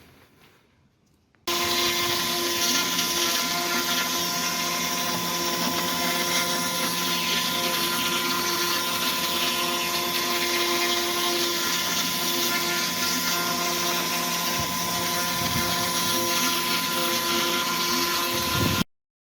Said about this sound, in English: has to deal with the CNC machine. We're carving foam.